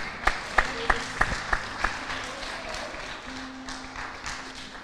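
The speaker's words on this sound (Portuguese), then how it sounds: "Vamos aplaudir o nome do Senhor." Six slow, distinct claps in a church class, evenly spaced and fairly close, then fading into quiet room tone with faint background sounds.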